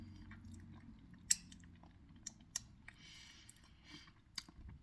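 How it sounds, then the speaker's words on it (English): Someone chews a bite of keto meatloaf open-face sandwich on chaffle bread with mashed potatoes, soft close mouth clicks and squelches at an irregular pace over low background noise. "Let's do the chewing."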